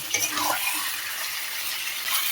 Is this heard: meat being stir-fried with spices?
yes